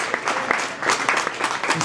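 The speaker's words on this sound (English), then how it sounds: "Round of applause for this man." An audience at a legal cannabis event in New York City claps steadily, a dense patter of many hands at moderate distance, with some voices faintly mixed in.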